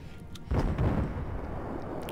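Warship guns firing in the World of Warships naval combat game, a single heavy boom with a rolling rumble that decays slowly and trails off into a low background hum.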